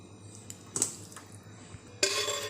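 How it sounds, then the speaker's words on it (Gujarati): A spoon mixes boiled noodles with oil, with a few soft clinks and scrapes against the dish close by, separated by quiet gaps. "હવે બધું મિક્સ કરી લેવાનું હાથ વડે અથવા તો ચમચી વડે"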